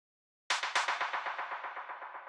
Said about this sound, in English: After that, we have the clap, which sounds like this.